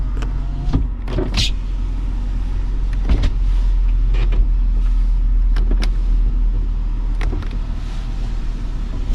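Power window regulators on a 2000 BMW 323i run up and down in turn, each pass a short motor whir with clunks at the stops, heard from inside the car over a steady idle rumble.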